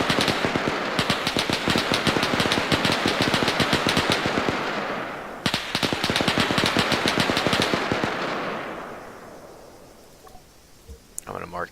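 Sustained machine gun fire aimed at a troop transport in the military video game Arma 3, two long loud rapid bursts with a brief break between them, then fading into distant rattling and scattered shots.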